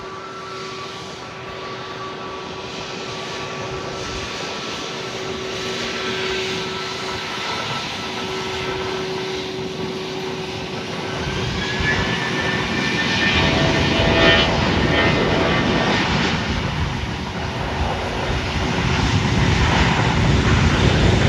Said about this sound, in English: now landing on 10 is Delta Airlines flight number 1913 coming in from Detroit on a